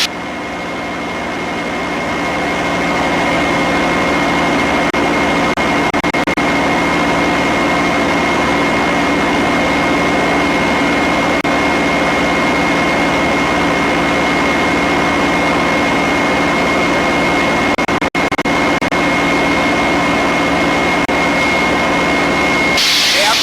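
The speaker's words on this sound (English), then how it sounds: "Bring the engine RPM back a little bit." A P-51 Mustang's piston engine drones steadily in flight from inside the cockpit, a loud continuous roar with a sustained tonal hum, easing slightly as the RPM is brought back.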